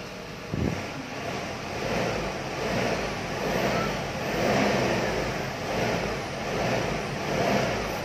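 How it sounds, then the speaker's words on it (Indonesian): A Ford Ranger XLT engine hums smoothly while driving, heard from inside the cabin with a broad steady roar that swells and eases in gentle waves, some wind noise, and a brief knock near the start. "Mesinnya halus banget."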